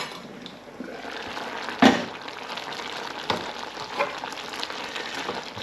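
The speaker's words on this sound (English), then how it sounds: "let that simmer for 15 minutes now" Runner bean chutney simmers in a pan with a steady, soft sizzle and bubbling, broken by a few brief clinks and stirring knocks, fairly quiet throughout.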